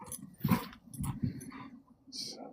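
Two husky brothers play together nearby, giving short whimpers, yips and low playful growls in irregular bursts at modest volume.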